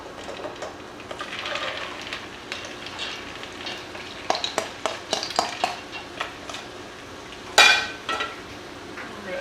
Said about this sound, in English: So now we simply add in our split peas.